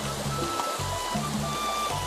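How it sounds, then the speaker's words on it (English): River water runs steadily over and around rocks, a continuous close rushing and trickling flow that lasts the whole time with no voices. "as the river flows over and around these rocks"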